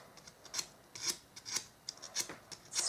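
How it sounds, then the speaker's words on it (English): Sandpaper rasps against a bamboo skewer to round its end, in short repeated scratchy strokes about every half second, close and fairly quiet, with no talking. "So I'm just kind of grabbing at it with the sandpaper."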